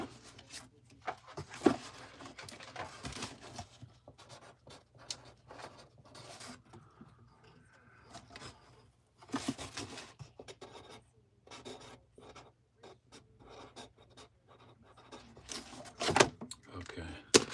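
Pen scratching on a package while comic orders are packed, heard as faint, intermittent bursts of rubbing strokes spread across the span, with quiet handling noises in between.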